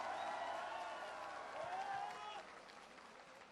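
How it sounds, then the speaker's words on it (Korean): Crowd applause with cheering at a former South Korean president's homecoming event in Bongha Village fills the clip, a steady broad wash of clapping that softens toward the end, with voices mixed in. "뜨거운 박수로 맞이해 주십시오."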